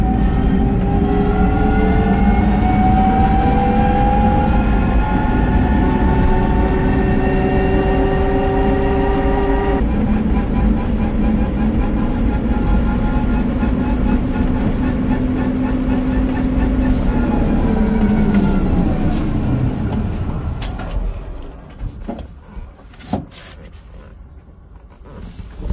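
An electric cargo trike, a mini camper of the Ape tuk-tuk type, drives on again after a breakdown, its motor whining and droning with rising and falling tones before fading as it slows.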